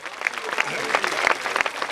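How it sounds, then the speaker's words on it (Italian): An audience claps steadily for the crew at an outdoor concert in Sardinia, dense applause with a few sharper individual claps popping out near the microphone. "anzi gli farei un applauso"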